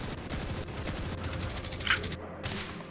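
Rapid bursts of gunfire from a video game shootout crackle steadily and loudly throughout, overlapping shots with brief gaps, no talk over them.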